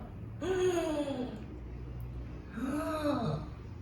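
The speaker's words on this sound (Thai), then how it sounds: "ให้หายใจแบบตกใจ ด้วยปากนะครับ" A man demonstrates a startled breathing exercise, drawing two sharp, audible gasping inhalations through the mouth, each about a second long, with a pause between them in a quiet room.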